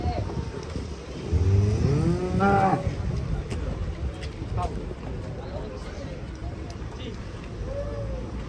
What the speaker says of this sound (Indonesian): Sapi raksasa ini